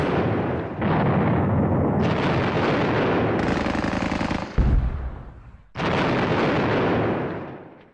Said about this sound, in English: Let's see what our puck gun can do.